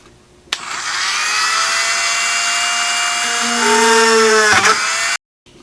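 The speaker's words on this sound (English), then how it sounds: "So we'll start drilling away." A power drill bores out holes in a plastic project enclosure for an ESP32 heating, cooling, temperature and humidity monitor, whining steadily and loudly for about five seconds, its pitch shifting near the end before it cuts off.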